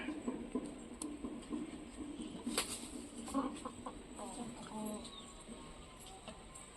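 A chicken clucking near a home shrine, with soft repeated clucks and coos over faint background noise and scattered small sounds.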